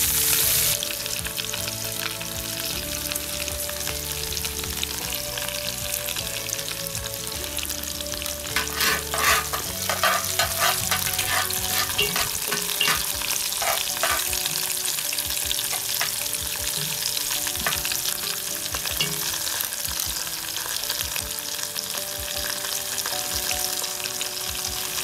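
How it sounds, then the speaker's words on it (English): Coarsely chopped onions brown in a Dutch oven, sizzling and frying steadily with a dense, loud crackle, stirred now and then, while low musical tones run underneath throughout. "we're just going to go ahead on the side there and just brown these onions off a little bit"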